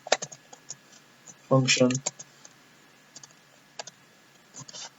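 Code being typed on a computer keyboard, scattered light clicks and a quick burst of rapid keystrokes, close and fairly quiet, with someone speaking briefly between them.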